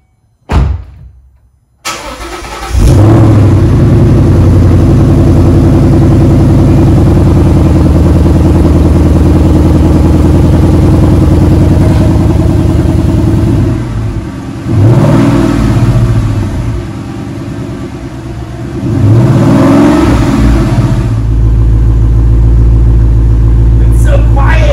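A 2014 Ford Mustang GT with stock mufflers cold-starts after a brief silence, then idles loud and close, with two strong revs rising and falling near the end.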